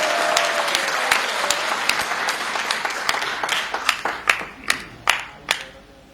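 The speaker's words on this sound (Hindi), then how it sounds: "जोरदार तालियां एक बार" An audience at a Hindi poetry performance breaks into applause, a dense wash of clapping that thins into a few loud, separate claps at the end.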